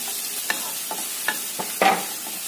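Chili goes into a hot pan with ginger and is stir-fried, giving a steady sizzle under a few sharp scraping strokes of a spatula against the pan, close and alone without speech.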